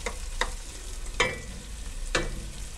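Mushrooms and onion cook in melted butter in a pan, giving a steady low sizzle broken by three sharp scraping stirs with no voices.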